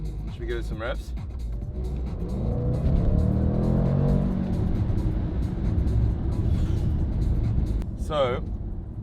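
A supercar engine revving and pulling away, a loud rumbling growl that swells through the middle and holds steady, with someone speaking briefly at the start and end.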